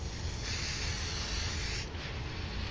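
Lubricant sprays from a can onto the pieces of a Rubik's cube, one continuous close airy hiss held steady for nearly three seconds, alone with no talk.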